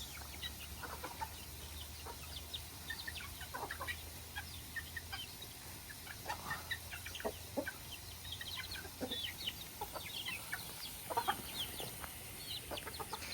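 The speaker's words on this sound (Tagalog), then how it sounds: "So yung ating mga manok dito." Chickens cluck in scattered bursts on a farm in the Philippines, several birds calling near and farther off over a steady background hum, with no talking.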